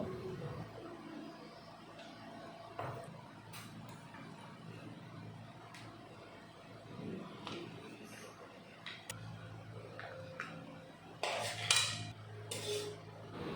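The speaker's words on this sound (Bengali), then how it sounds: "কাঁকড়া রান্নাটা আমি এখন একটা প্লেটে ঢেলে নেব" Cooked crab curry being tipped from a pan onto a plate, with scattered clinks and scrapes of metal cookware and utensils against dishes over a low kitchen hum, louder clattering near the end.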